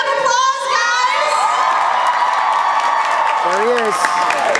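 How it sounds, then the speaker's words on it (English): An anime convention panel audience at Anime Expo cheers, shouts and applauds loudly and continuously, with children's shouts rising above a dense, close crowd roar. "Give Robbie a big round of applause"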